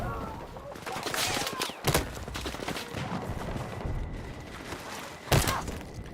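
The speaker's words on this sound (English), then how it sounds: "I just hear ricochets like bullets everywhere" Gunfire and bullet ricochets in the Battlefield 6 video game: dense, continuous crackling bursts with two sharp, loud impacts standing out early and near the end.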